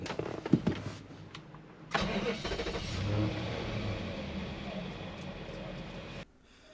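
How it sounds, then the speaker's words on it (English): After a few clicks and a brief voice, an Infiniti car engine with an output speed sensor fault cranks and catches, then runs steadily for several seconds before cutting off. "We are going to reset the check engine light now and fire it up."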